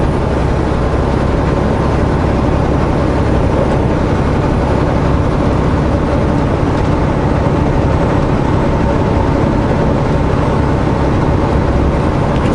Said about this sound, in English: You can see how hard the engine's working.